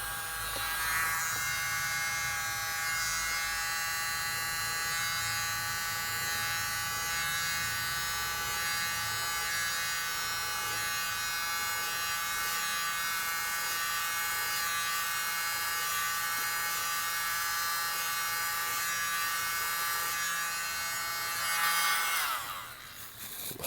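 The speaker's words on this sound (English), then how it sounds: "Get my little mini blower and blow that out" A small handheld electric mini blower pushing wet paint around in an acrylic pour: a steady, close, high-pitched motor whine held without a break, then a brief change in tone as it is moved right at the end.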